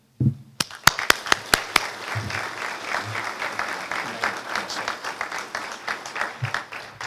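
Audience applause at a city State of the City address in Scottsboro greets the mayor, opening with several sharp individual claps before a full, steady round of clapping fills the room and continues throughout.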